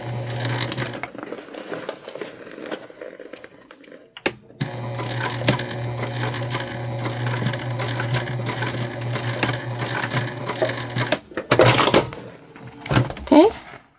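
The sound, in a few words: sewing machine basting stitches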